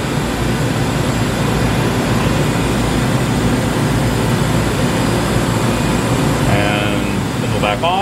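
Makino A55 horizontal machining center with its spindle running at 1000 RPM, a loud, dense, steady mechanical rumble and whir filling the shop, with a brief rising whine near the end.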